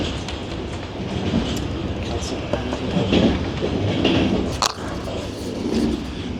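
Inside a passenger train running from Bratislava to Budapest, a steady rumble of wheels and carriage noise fills the space with faint rhythmic clacks and a brief sharp squeal, while some quiet talk sits beneath.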